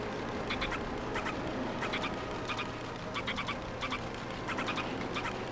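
Repeated short, nasal quacking bird calls in bursts of three or four from a video game, Legend of Zelda: Twilight Princess, over a steady low background hum, with no voices.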